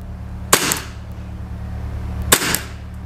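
A CZ-75 SP-01 Shadow CO2 airsoft pistol fires 0.20 gram BBs through a chronograph: two sharp, close snapping shots about two seconds apart, each with a brief ringing tail over a faint steady hum.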